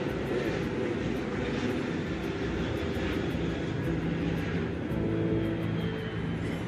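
Loud, steady low roar of an airplane landing close by at Heathrow Airport, broad rumbling noise filling the whole clip without letting up.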